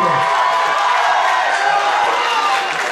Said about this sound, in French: Vous pouvez applaudir aussi Gauthier s'il vous plaît.